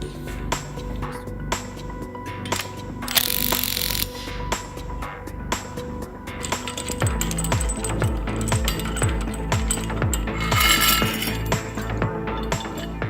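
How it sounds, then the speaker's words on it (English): Bolts are loosened on an industrial rupture disc unit, with metallic clinks, ratcheting clicks and tool taps over a steady machine hum, close and continuous. "we can loosen the bolts"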